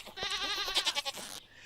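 Goats on a Stardew Valley farm bleat in a quick run of wavering, nasal cries, several calls overlapping for about a second before cutting off.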